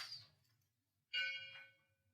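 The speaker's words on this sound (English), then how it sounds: "Sound of the bell, the breath, the body." A soft bell tone rings out once, fades, then a second clearer strike follows with a sustained ringing hum in a quiet room.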